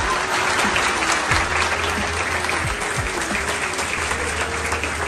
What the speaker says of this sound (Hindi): एक बार पहले लगता सर के लिए जोरदार ताली।